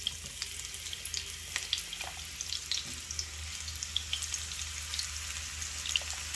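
Onions frying in a pan for a Congolese spinach and fried fish dish, a soft, faint sizzle with small crackles and pops throughout, occasional clinks and stirring, no talking.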